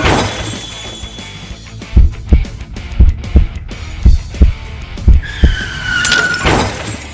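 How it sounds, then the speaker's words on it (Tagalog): Cartoon sound effect of a Tamiya toy car shattering in a Filipino animated race: a string of sharp crashing, breaking hits in uneven bursts, ending in a rising skid-like tone, with no talking. "yung Tamiya ko"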